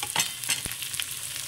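Tomato and onion cook together in a pan for Sri Lankan sambar, giving a soft, continuous sizzle with light scraping stirs over a brief moment.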